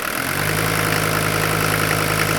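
An old Mercedes diesel engine runs close and loud with a steady, even hum, its pitch holding smooth just above idle.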